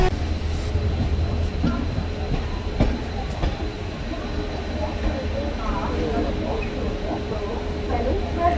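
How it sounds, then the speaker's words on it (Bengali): A Rupashi Bangla Express passenger train rolls into Kharagpur station, a loud steady rumble of wheels and carriage noise with faint rail clatter throughout and a voice briefly audible inside the coach. "ট্রেন ঢুকছে খড়গপুর স্টেশন।"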